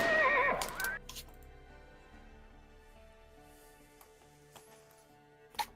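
A horse from the video game Hunt: Showdown lets out a loud, wavering whinny in the first second, then background ambience with a faint sharp knock near the end.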